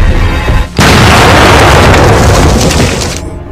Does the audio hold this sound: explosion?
yes